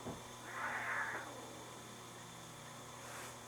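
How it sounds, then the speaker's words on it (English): Cats fight just outside a room, with one drawn-out wailing caterwaul rising and fading, a faint second cry following, all fairly distant and muffled over a low steady hum. "Looks like we have a serious cat fight brewing outside the room here"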